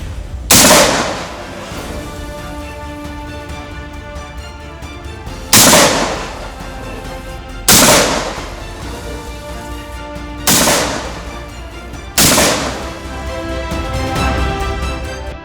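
Assam Rifles soldiers firing rifles during a counter-insurgency operation: five loud, sharp gunshots spaced a few seconds apart, each followed by a rolling echo that decays into outdoor ambience.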